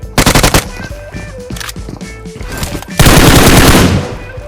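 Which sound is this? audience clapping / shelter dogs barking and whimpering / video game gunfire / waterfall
video game gunfire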